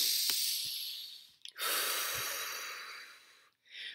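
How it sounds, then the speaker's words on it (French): Slow, deep human breaths, a long airy inhale followed by a longer steady exhale, then another breath begins, close and quiet with no talking. "Concentrez-vous sur le fait de respirer profondément."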